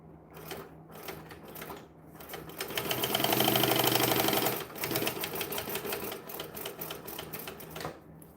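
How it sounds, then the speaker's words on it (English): Sewing machine stitching fabric bags, a rapid mechanical clatter in short bursts that swells into a sustained fast run, then continues in quicker patter before stopping. "Let me sew these four"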